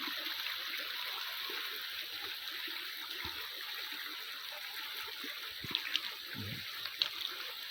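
Strong water rushing over rocks in a flash-flooded creek in Thailand, a steady broadband roar with occasional splashes, heard up close and without talk.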